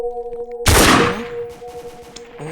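A machine gun fires in the Roblox game Survive Area 51, heard as one sudden, loud burst that quickly fades over steady game background tones.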